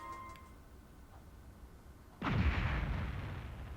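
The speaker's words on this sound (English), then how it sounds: "The sound of an explosion came from the direction of the village entrance." A sudden, loud, booming explosion near a village entrance in the video game Suikogaiden 2, bursting in after a quiet stretch and rumbling on to the end.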